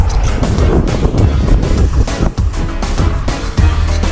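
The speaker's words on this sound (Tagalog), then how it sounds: "Ganito kalakas ang hangin, no?" Strong wind roars and buffets the microphone continuously near the Burj Khalifa in Dubai, a loud, rumbling gusty blast with brief dips, no voices heard.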